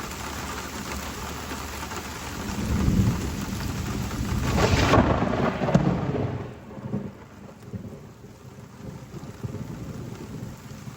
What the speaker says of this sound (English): lightning struck like 100 feet away from me and nearly hit the tractor